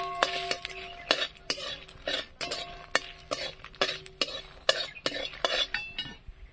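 Green chillies are roasted with a little salt in a metal pan. A utensil scrapes and knocks repeatedly in an irregular rhythm, with sharp close clinks over a faint sizzle.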